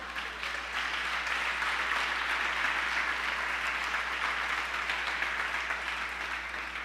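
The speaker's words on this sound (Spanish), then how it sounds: "Y le damos un aplauso" Steady, dense applause from a church congregation during a Spanish-language sermon, a continuous wash of many hands clapping at moderate distance with a low hum beneath.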